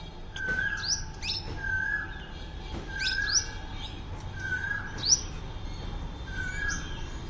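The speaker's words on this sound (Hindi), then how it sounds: "देखो ये काली वाली चिड़िया गजब की है, ये फूल का पराग ले रही है" A small black bird feeding on flower pollen at a temple garden gives short, high chirps at a steady pace, several calls over a few seconds, fairly faint against soft outdoor background noise.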